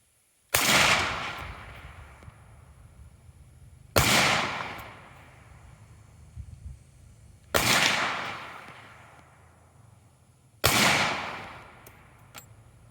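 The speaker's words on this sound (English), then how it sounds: "Well, the last round exited the pistol." Pistol shots fired on a range while demonstrating a limp-wrist grip, four loud, sharp reports spaced a few seconds apart, each followed by a decaying echo.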